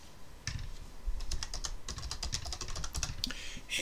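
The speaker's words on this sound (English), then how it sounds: "So let's type in a search term" Typing a search term on a computer keyboard, a steady run of quiet, close key clicks and taps with no one talking.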